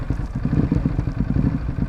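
Ducati Hypermotard motorcycle engine idling roughly in race mode, a loud close uneven lumpy pulsing throb that stumbles irregularly as if about to stall.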